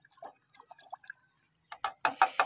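Red chili being stirred into water in a container gives a string of small, sparse clicks and light liquid sloshes, ending in a few louder splashy stirs, close and without talk.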